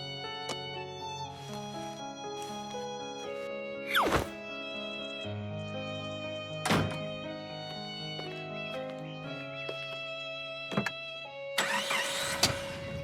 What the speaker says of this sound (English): Mr. Fox set off in his car with Po beside him.